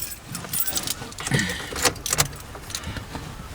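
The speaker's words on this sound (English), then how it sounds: "Let me get my keys." Car keys for a 2013 Vauxhall Corsa 1.2 SXi jingling in hand, a close, irregular series of metallic clinks and rattles over several seconds with faint rustling.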